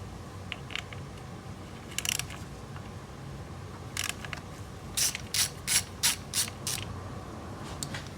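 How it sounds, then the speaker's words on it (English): A ratchet breaking loose the ignition coil nuts on an Acura ZDX gives several short bursts of rapid clicking, close and fairly loud, ending in a steady run of six evenly spaced ratchet strokes. "So I'm gonna loosen them first, like breaking the nut loose."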